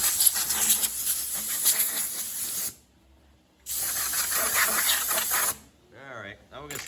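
Compressed air blasting chips and burrs off a steel tractor wheel spacer hub turned on a lathe, two loud sustained hissing bursts separated by a short pause, followed by a voice speaking.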